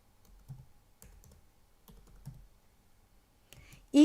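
Python code being typed on a computer keyboard: sparse, faint key clicks come in small clusters with pauses between them, close and quiet, ending in a brief louder burst.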